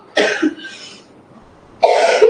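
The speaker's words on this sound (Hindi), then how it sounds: "अब इनको खांसी हो रही है" Three harsh coughs sound close up, two in quick succession and then one more after a short silence.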